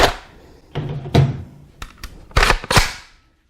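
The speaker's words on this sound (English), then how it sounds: "Drop my mag out here." A Steyr AUG A1 bullpup rifle, an STG.77 40th Anniversary model, handled up close as its magazine is dropped out, a series of sharp metallic clicks and thunks that end in quiet.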